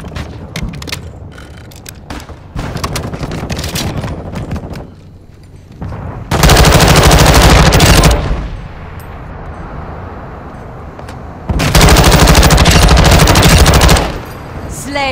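A deployed sentry gun in Call of Duty Modern Warfare 2 fires in two long, loud, sustained automatic bursts, separated by quieter battlefield noise and scattered shots.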